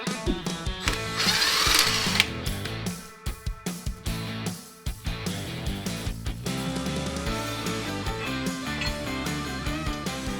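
A power tool removing bolts from a truck's rear axle differential cover, heard close and loud as a whirring run followed by a series of short, rapid mechanical bursts, then a steadier buzzing.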